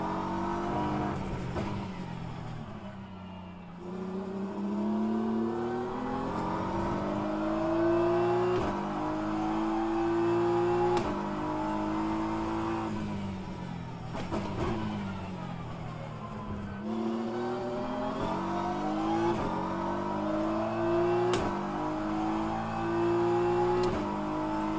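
A race car engine in the rFactor 2 racing game revs continuously, pitch climbing through the gears, dropping at each shift and braking zone, with brief tire squeal in a long, steady lap.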